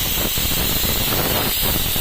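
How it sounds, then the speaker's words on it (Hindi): Dal frying in a pan gives a continuous, fairly loud hiss and sizzle that holds steady without breaks. "तो जी अब दाल फ्राई कर लेती हूँ मैं।"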